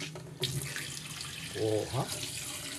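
Water gushes steadily from a repaired broken faucet as it is opened, a close, continuous splashing flow into the sink, with a person briefly speaking over it.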